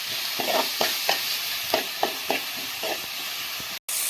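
Onions sautéing in a pan after a pinch of salt goes in, with a steady close sizzle broken by a series of scraping stir strokes, then a brief cut to silence near the end.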